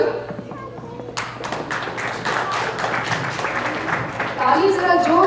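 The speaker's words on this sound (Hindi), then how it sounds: "ताली जरा जोर से" Audience applause at a high school graduation ceremony as names are called, a dense patter of many hands clapping steadily and growing louder near the end, with a voice speaking over it.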